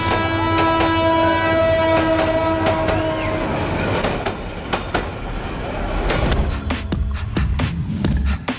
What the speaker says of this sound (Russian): Я вам скажу, это совсем необычный поезд.